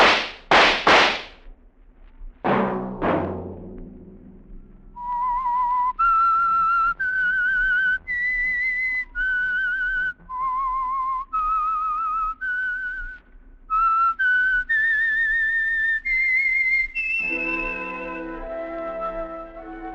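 A few sharp cracks ring out before a clear melodic whistle carries a slow, wandering tune, ending on a fuller, lower tone.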